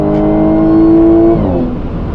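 An Audi S5 engine rumbles at a steady high rev, holding a sustained tone, then drops off as the throttle is released, loud and close.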